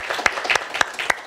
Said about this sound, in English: Applaud again, Sarah.